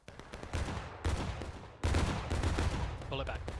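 Musket gunfire in the video game War of Rights, several loud bursts of overlapping shots in a ragged volley, with a short squeal of voice-like sound near the end.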